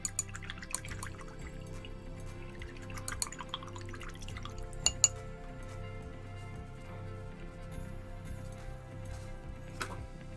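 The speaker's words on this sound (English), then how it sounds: "I'm going to wash my little brush" Small brush swished in water while painting Reaper goblin miniatures, soft faint drips and light clinks over a quiet background hum.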